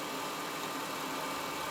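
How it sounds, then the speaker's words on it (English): A Jaguar XK 5.0 Portfolio Coupe engine idling while warming up during an oil change, a steady low mechanical hum with even vibration, close and continuous. "So we'll just let the engine warm up now."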